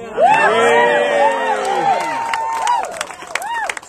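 A crowd cheers and whoops during a political speech, loud and close, with a few claps and shouts scattered through it.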